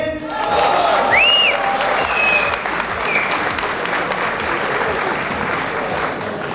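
Guests at a wedding ceremony applaud loudly and steadily, a dense, continuous clapping crowd with a faint cheer near the start.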